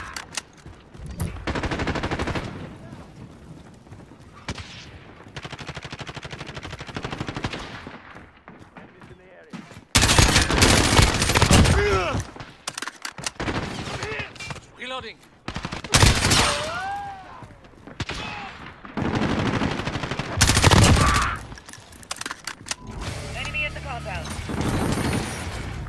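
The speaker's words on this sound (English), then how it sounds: "Cluster strike incoming." Cluster strike explosions in Call of Duty: Modern Warfare, a dense series of loud booms and blasts mixed with gunfire and battle noise, continuing after a brief lull, with voices over the chaos.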